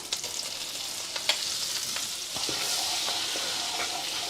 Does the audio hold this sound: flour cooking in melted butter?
yes